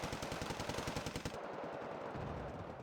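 Rapid rifle gunfire in the Cold War strategy game Wargame: Red Dragon, a dense run of evenly spaced shots for over a second, then a rumbling mix of scattered fire and battle noise.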